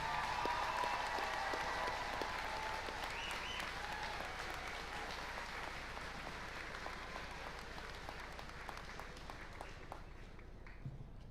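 A large crowd applauds the graduating class at a high school graduation ceremony, a continuous distant wash of clapping that slowly fades, with faint crowd murmur underneath.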